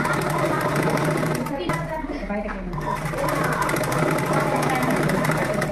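A sewing machine stitches the side cuts of a dress top with a loud, close, continuous rapid whir. It pauses briefly while a voice speaks, then resumes steady stitching.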